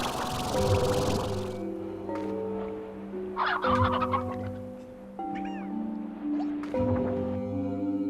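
Chickens in the video game Slime Rancher, clucking and squawking in short bursts over a steady musical game soundtrack, fairly close and moderately loud.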